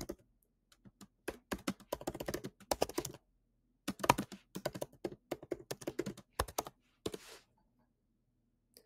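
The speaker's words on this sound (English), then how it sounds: "You can just type those directly into the chat." Someone types text into a chat window on a computer keyboard, with close, crisp bursts of rapid key clicks separated by short pauses and no talk.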